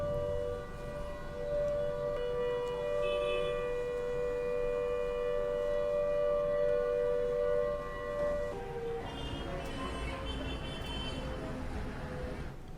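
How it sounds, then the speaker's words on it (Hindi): A civil defense siren wails steadily during a morning mock drill near a school, loud and sustained with a shifting pitch toward the end, over faint traffic noise. "डिसलवा स्कूल के पास सायरन बजाया गया।"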